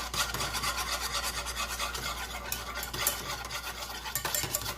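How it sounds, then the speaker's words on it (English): A whisk works flour into gravy in a pan, a continuous scraping, rasping swirl with quick rhythmic strokes and occasional sharper clicks of metal against the pan, close and fairly quiet. "Then you want to whisk your flour in."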